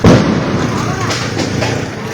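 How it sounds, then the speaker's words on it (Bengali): Bombs going off during a street clash, a loud boom at the start followed by rumbling blasts and echoes, with people shouting over the noise. "এদিকে বম মারামারি হচ্ছে এখনো।"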